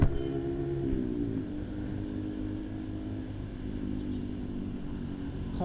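Open-pipe exhaust of a Yamaha R15 motorcycle passing nearby, a loud steady engine drone with harmonic rumble that shifts pitch early on, then continues evenly without talk.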